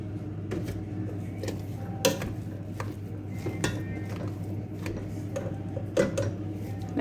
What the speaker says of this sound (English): So keep mashing.